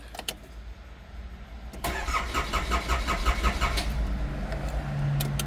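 A Nissan Caravan diesel van engine with TD27 engine cranks and catches, then settles into a steady, rumbling idle close by.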